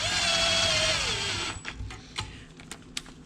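A power drill spins screws into a Kawasaki KFX 450R ATV, a whining run that drops in pitch and stops after about a second and a half, followed by a few light clicks and taps close by.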